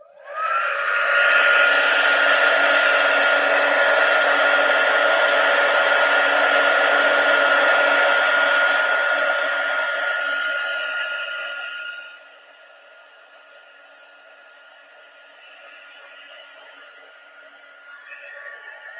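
A heat tool blows steadily while embossing powder is melted onto vellum, a loud, even whirring hiss for about ten seconds that then drops to a much quieter hum.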